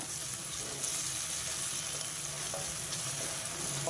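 Steady, close sizzling of ginger paste frying in hot oil for tempering, a continuous crackling hiss with faint stirring scrapes, no voices.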